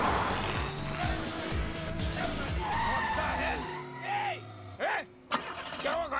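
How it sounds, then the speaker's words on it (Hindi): A car's engine runs rough and then cuts out in a comedy film scene, its droning hum giving way to sputtering, whining bursts as it fails to restart, with voices nearby. "गाड़ी बंद हो गई, स्टार्ट नहीं हो रही।"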